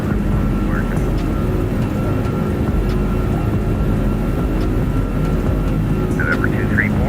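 Airbus A340-600 jet engines roaring on takeoff in the X-Plane 11 flight simulator, a steady loud broadband rumble with a constant engine tone, and a voice talking briefly over it.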